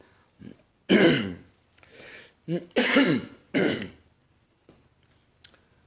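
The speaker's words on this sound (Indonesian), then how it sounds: "Kena hujan sekali aja udah batuk-batuk ini" A few harsh throat clearings and coughs come in separate bursts, close and loud, with short quiet gaps between them.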